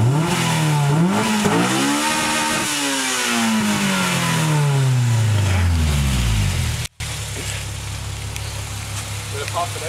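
A car engine screams up and down in loud sweeping revs, then bangs repeatedly against a two-step rev limiter set around 9,500 rpm, a steady stuttering drone that holds after a brief cut.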